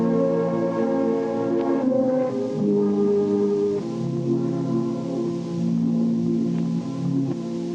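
Compressed keyboard sample phrase played through a pedal, a dense, muted and dull run of chords and notes with steady hiss underneath, continuous and fairly loud throughout.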